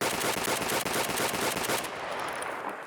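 A shotgun in the video game Escape From Tarkov fires rapidly at point blank range, a dense string of loud, evenly spaced blasts that stops abruptly, leaving a fading tail.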